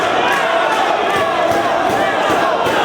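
A red-hot wrestling arena crowd cheering for a four-man match, a dense steady roar of voices and shouts that holds loud and unbroken throughout.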